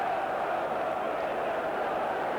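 Big all-ticket football crowd of over 24,000 at a 1992 Stoke City versus Port Vale local derby, a dense steady roar of massed voices filling the ground with no breaks.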